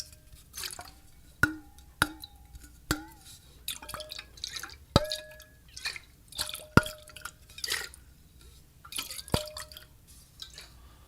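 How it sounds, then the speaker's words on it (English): Water drips from an upturned stainless steel water bottle, each drop landing as a sharp metallic plink with a short echoey ring, irregularly spaced and fairly faint in a quiet room. "I can make that cool metallic echoey water sound that you always hear in old movies and TV shows"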